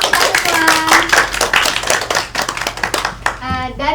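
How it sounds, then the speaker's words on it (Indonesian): Children and a teacher clap together in a classroom during a civics microteaching lesson, a loud burst of clapping over the first three seconds, with a voice and talk coming in at the end. "Tepuk tangan untuk kita semua."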